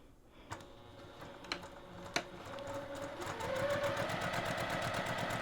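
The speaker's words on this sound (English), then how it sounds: "we're just going to stitch all the way around, and don't forget to back tack" Home sewing machine stitching around a fabric passport cover, starting with a few separate clicks and short bursts before settling into a steady, fast rhythmic stitching that grows slightly louder, close by.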